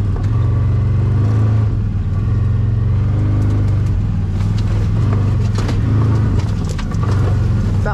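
A CFMoto 800 EX ATV in high two-wheel drive takes on an off-road obstacle, its engine a loud, close, steady rumble with slight swells in revs throughout.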